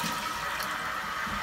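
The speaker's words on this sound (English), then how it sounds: "And then you can see how your toilet flushes." A newly installed toilet flushing, with a continuous close rush and gurgle of draining water that holds steady throughout and has no talk over it.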